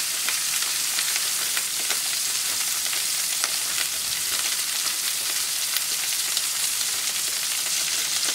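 Duck breasts searing in a hot pan, a dense, even sizzle that holds steady and close throughout with no voices.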